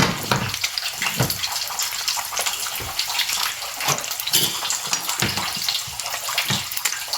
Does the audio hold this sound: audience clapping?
no